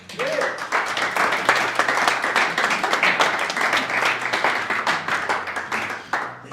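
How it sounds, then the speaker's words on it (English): Sustained audience applause at a snooker final, dense steady clapping from a crowd in a hall, loud and continuous for the whole stretch. "Please give the players a round of applause"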